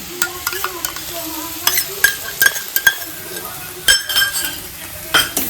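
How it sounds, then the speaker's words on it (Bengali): A spatula stirs a ground paste of onion, mustard and green chili as it fries in a pan for a banana flower dish. Bursts of scraping and light metal clinks come over a soft sizzle, close and fairly loud, with no talking. "এবারে ভালো করে নেড়ে নেব"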